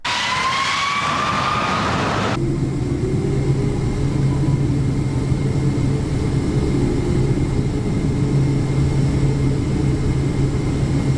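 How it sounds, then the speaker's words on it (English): Airplane jet engines run with a loud, steady roar and a droning low hum, preceded by a brief whining tone in the first couple of seconds, with no voices. "It's pretty cool to see how easy it is for airplane engines to suck in the moisture from the air."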